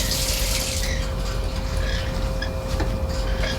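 Water from a kitchen tap runs steadily over a chilled metal bowl, a constant rushing hiss with faint metallic ringing as the bowl is rinsed close by.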